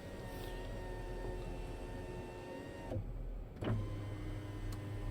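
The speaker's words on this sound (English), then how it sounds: "And the sunroof control works perfectly." A 2007 Toyota Alphard 2.4 electric sunroof motor runs with a steady whirring hum inside the cabin, stops briefly, then restarts with a short clunk and keeps humming, no talking.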